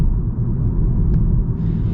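A 2024 VW GLI with a DSG gearbox shifting in manual mode, heard from inside the cabin as a loud, steady low engine rumble with a brief change near the middle and no voices.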